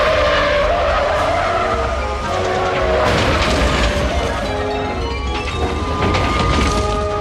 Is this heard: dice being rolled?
no